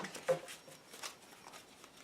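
Quiet riffling and soft flicks of a card deck being shuffled, light papery bursts close by with no voices.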